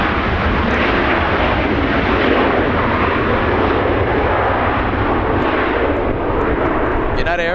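Airliner in Yam Dreaming livery heading north for departure from LAX, a loud, dense, continuous jet roar at close range, with a brief radio-like burst at the very end.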